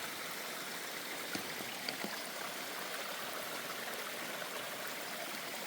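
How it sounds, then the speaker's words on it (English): A river rushes beside a rocky mountain trail on Mount Moosilauke in light rain, producing a constant broadband roar of flowing water with a few faint drips, steady and unbroken from start to finish. "A river runs through it."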